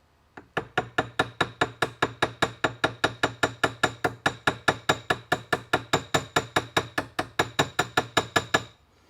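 Steady, rapid metallic hammer strikes on a jewelry rivet head, around forty evenly spaced blows in a row, close and sharp, with no talking.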